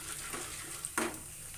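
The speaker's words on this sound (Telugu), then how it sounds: "నెక్స్ట్ పచ్చిశనగపప్పు వేసుకుని ఫ్రై చేసుకుందాం" Chana dal and spices frying in hot oil in a pan while cooking coconut rice, a soft continuous sizzle with a brief sharper crackle near the middle, close and fairly quiet.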